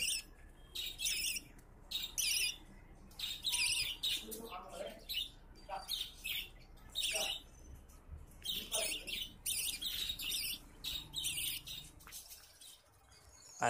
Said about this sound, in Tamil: பேர்ட் சவுண்டு கேட்டனால டக்கு டக்குன்னு எங்கக்கிட்டேயே வர மாதிரி